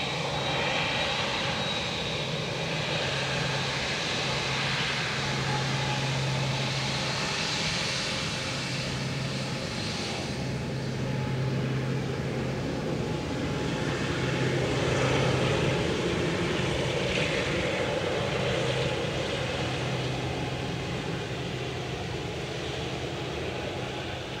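An airliner lands on runway 28 left at Dublin Airport, a steady distant engine roar with a low drone rolling on for the whole stretch, no voices over it.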